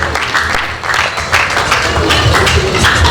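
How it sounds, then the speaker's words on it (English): Audience applause at a veterinary graduation induction ceremony, a steady dense wash of clapping filling the whole stretch at close, even loudness without any voices. "A round of applause."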